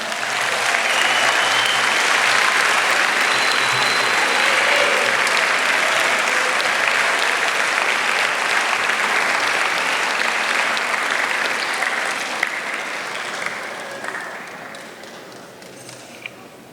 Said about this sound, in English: give a round of applause and appreciation to the people who have helped you get to this moment